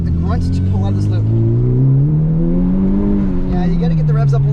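Honda Civic Type R pulls out of a low-speed corner in second gear on a track, its engine note climbing steadily and loud throughout, with someone talking over it.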